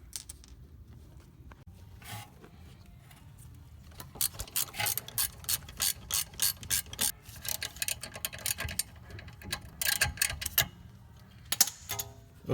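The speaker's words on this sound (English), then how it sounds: "I'm gonna install the bolts on the caliper" A ratchet clicks in quick bursts of strokes while tightening the brake caliper bolts on a 2007 BMW 328i E90, fairly close and with no talking.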